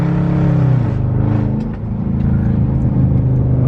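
A Dodge Charger R/T engine revs loud and close while downshifting, a steady rumbling drone with pitch drops and rises as gears change.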